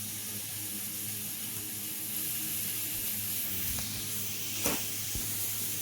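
Chicken breast frying in a pan, a soft continuous sizzle and hiss with a low hum underneath and a couple of faint clicks, close and steady throughout.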